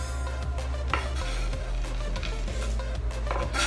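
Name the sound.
folding chopped chocolate into pavlova mixture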